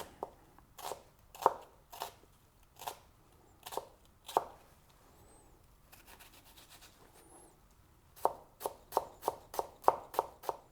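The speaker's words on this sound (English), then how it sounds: "We're going to chop up our red onion, quite fine." A knife chops red onion finely on a board in quick bursts of sharp, close taps, pausing briefly before a fast final run of strokes.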